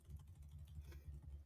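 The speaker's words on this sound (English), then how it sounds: "But I'm just going to start typing and say," Quiet typing on a computer keyboard, a short run of soft, rapid key taps close by with no voices.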